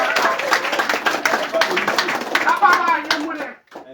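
Congregation in a church clapping rapidly and continuously, dense applause close by with voices mixed in, fading out at the end.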